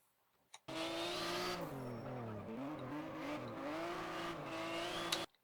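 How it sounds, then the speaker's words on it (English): In the rFactor racing game, a drifting car's engine revs high, dips in pitch as the throttle is lifted, then climbs again as it is reapplied, with faint tire squeal under the steady engine tone. "Did you hear when I got off the gas and then got back on?"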